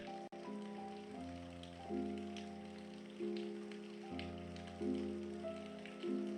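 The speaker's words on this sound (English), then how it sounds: "How long has it been raining?" Steady rain falling in a continuous broadband hiss, heard beneath sustained, shifting musical chords from a story game, with no talking.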